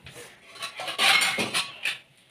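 Metal pot set down inside a pressure cooker and its lid fitted, a quick run of close clinks and scrapes of metal on metal lasting about two seconds.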